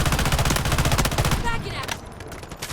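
Gunfire in the mobile video game Delta Force Mobile comes as rapid, loud bursts of automatic shots that thin out and stop near the end, leaving a quieter, echoing tail.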